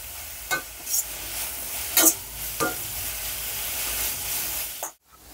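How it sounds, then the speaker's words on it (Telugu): Finely grated carrot fries in a pan over a low flame, a steady soft sizzle broken by several sharp stirring scrapes, then cutting off abruptly near the end. "ఇలా క్యారెట్ని బాగా వేపుకుందాం లో ఫ్లేమ్లో."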